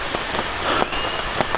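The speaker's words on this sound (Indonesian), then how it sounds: "Ini hujan masih terus." Steady rain patters on a surface in a forest near a river and a bamboo footbridge, with a camera sheltered under an umbrella; a dense, even hiss with a few louder drops, close and continuous.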